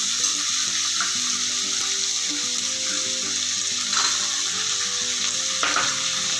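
Peas drop into an oiled frying pan while making vermicelli upma, giving a steady, close sizzle with light stirring and a couple of brief clatters.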